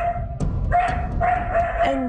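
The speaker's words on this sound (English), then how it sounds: "he also starts to bark at whoever he meets" Small dog barking in short, sharp bursts, loud and close, with several yaps in quick succession and a steady tone in the background.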